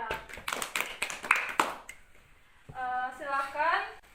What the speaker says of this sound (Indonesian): tepuk tangan untuk Aira